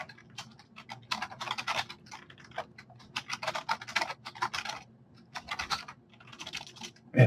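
Fingers clatter on a computer keyboard in quick, uneven bursts of keystrokes with short pauses between runs, close and clear, while someone fills in an online form for semi-truck IRP plates.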